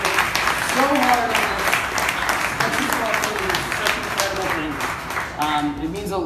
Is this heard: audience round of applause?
yes